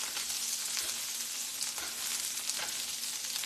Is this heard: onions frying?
yes